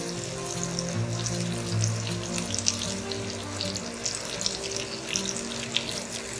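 Brinjal (eggplant) pieces sizzle and fry in an oiled pan with masala, a steady close hiss with faint crackles and a low hum underneath, no voices.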